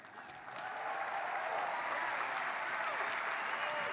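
An audience at the 2016 Rock & Roll Hall of Fame induction ceremony applauds Deep Purple, the clapping swelling quickly into a dense, sustained roar of a large crowd.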